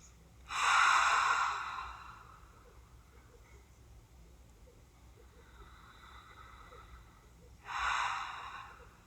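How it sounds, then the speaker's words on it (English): Two slow, deep breaths, each a soft airy exhale lasting over a second, separated by a long quiet pause in a calm, hushed room. "Just blink and breathe into the darkness. Some deep breaths."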